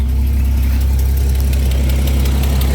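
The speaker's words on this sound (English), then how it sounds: "Exhaust leak, it's right" Idling engine of a 1983 Dodge D150 pickup with an exhaust leak, heard close up as a steady, loud low rumble with faint quick ticking running through it for the whole stretch, no voices.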